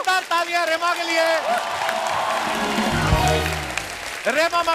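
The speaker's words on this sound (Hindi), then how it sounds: "जोरदार तालियां रेमा के लिए" A studio audience breaks into loud applause and cheering for Nigerian Afrobeat star Rema on a TV comedy show, a dense clapping wash that swells in the middle, with a host's voice before and after it.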